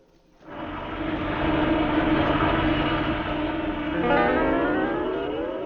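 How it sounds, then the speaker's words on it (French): An airplane sound effect: a droning aircraft engine fades in quickly, then holds a loud, steady hum that swells slightly toward the end. "Un avion."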